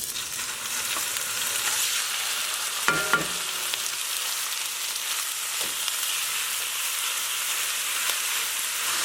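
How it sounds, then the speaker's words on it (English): Ground meat frying in olive oil in a pot or Dutch oven, a steady, close sizzle with a short clatter of the pot around the three-second mark and a lighter knock later, with no talk. "the meat's going to start to fry in its own fat"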